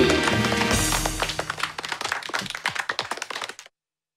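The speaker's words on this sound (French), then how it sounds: "Applaudissez les bébés de la vallée." Cartoon crowd applause for the valley babies in Cry Babies Magic Tears: a brisk run of clapping that thins into scattered claps and stops abruptly, with no speech over it.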